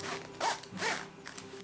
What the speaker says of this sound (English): Look at the operating zipper.